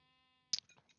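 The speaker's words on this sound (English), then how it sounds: "Watch my little sheep." A sheep in a Minecraft-style game world gives two short, close bleats about half a second apart, with a faint wavering sound between them and nothing else around.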